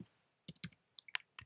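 A computer keyboard clicks as a command is typed into a terminal. About eight faint keystrokes come in an irregular rhythm, close and quiet, with near-silence between them.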